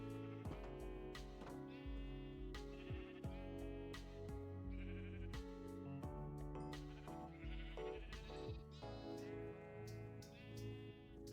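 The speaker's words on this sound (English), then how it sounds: "Oh, look, all those sheep are grown up." Sheep in the Minecraft video game give repeated bleats in an irregular run, some overlapping, clear and close against a quiet background.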